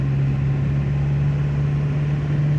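Diesel engine of a TDI-swapped Dodge Dakota with an AW4 automatic as the torque converter unlocks, a steady low droning hum with a strong constant tone, heard from inside the cab with no talk.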